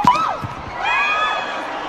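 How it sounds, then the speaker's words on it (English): Volleyball arena crowd at an FIVB Grand Champion Cup match between Thailand and Russia, a loud wash of cheering and whooping voices swelling after a sharp opening burst. "Crowd applaud that."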